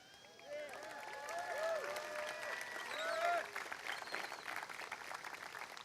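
Applause from an outdoor crowd at the Illinois State Fair, with cheering voices and chatter mixed in, steady and moderately loud throughout.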